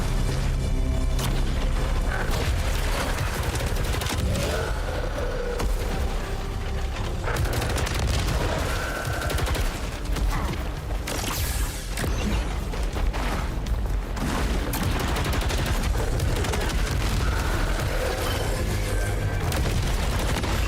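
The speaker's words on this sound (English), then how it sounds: "Explode, darn it." Explosions in the video game Saros boom and crackle in a dense, continuous barrage, loud and close, with layered blasts and gunfire-like bursts.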